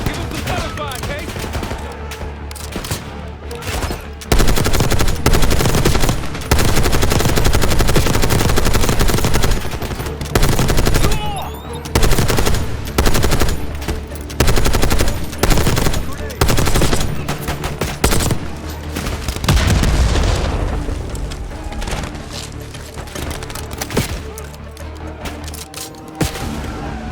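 Dense gunfire from Call of Duty: Black Ops 6 campaign combat, with rapid automatic bursts and heavy single shots crackling loudly and almost nonstop, broken by short lulls, with occasional voices shouting underneath.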